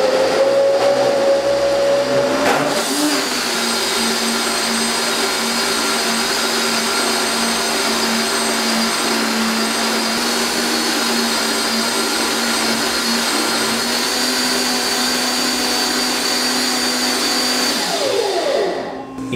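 A blender blending pumpkin soup runs steadily at high speed for nearly twenty seconds, a loud continuous motor whir with a brief change in pitch as it starts up.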